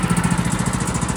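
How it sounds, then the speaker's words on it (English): A hobby sawmill's engine runs while warming up, a loud, steady, rapidly pulsing throb like a small mower engine at idle, close by and with no talk over it. "I've got the sawmill running, warming up."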